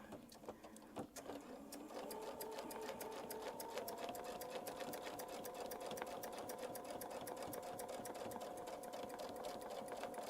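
A sewing machine runs steadily along a curved seam, its rapid needle strokes ticking in an even, continuous rhythm after a brief start, close and alone with no voices.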